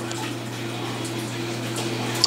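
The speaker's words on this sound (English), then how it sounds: "I got a 500-gallon per hour pump in there, keeping the water churning so it's not stagnant." A 500-gallon-per-hour pump churns water in an aquarium tank, giving a steady close hum with a continuous wash of moving water and no other sounds.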